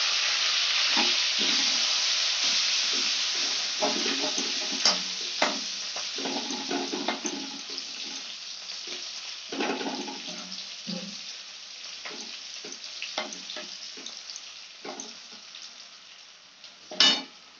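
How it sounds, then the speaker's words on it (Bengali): Ginger and garlic go into hot oil left from frying chicken for chilli chicken, a steady sizzle under repeated stirring scrapes and clicks of a utensil, with a louder knock near the end. "চিকেন ফ্রাই হয়েছে ওই তেলের মধ্যে কিন্তু আমি দিয়ে দিচ্ছি এতে আদা রসুন দুটোই দিয়ে দেওয়ার সাথে"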